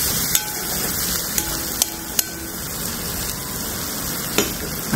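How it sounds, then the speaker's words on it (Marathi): Green chillies frying in oil for a fasting rajgira bhaji, a steady hiss of sizzling punctuated by several sharp pops and spatters. "हिरवी मिरची अशी छान असं तेलामध्ये परतून घ्यायची"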